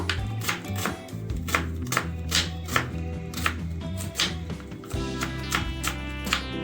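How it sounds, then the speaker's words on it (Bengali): A knife chops an onion on a cutting board in quick, even strokes of about two per second, crisp and close with no talking. "প্রথমে পেঁয়াজটি আমি এইভাবে চপ করে নেব"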